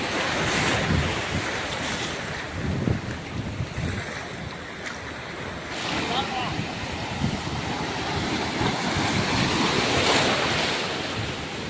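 Sea waves washing onto a beach, a constant surging roar with gentle swells and wind buffeting the microphone throughout, close and loud with no clear talk.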